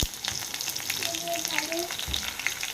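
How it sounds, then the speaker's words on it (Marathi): Ten to twelve crushed garlic cloves and four or five green chillies fry in a pan for veg biryani, a steady close sizzle with faint stirring and no speech. "इथे लसूण टाकते दहा बारा पाकळ्या ठेचून घेतल्या होत्या मी आणि त्यानंतर इथं चार पाच हिरवी मिरची टाकून ठेवलेली आहे"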